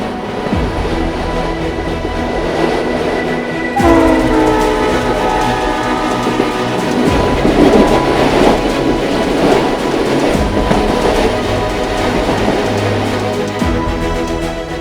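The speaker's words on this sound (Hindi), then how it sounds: "कैसे ये रेलगाड़ी इस पुल के ऊपर से गुजर रही है।" A train crosses the new Pamban sea bridge, a loud continuous rumble with clattering wheels and a sustained horn blast, steady throughout with a sharp shift partway as the sound swells.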